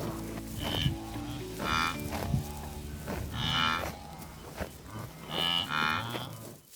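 Migrating wildebeest herd on the Serengeti, several deep, drawn-out lowing grunts and moans repeating in overlapping calls from animals fairly close, with no voices.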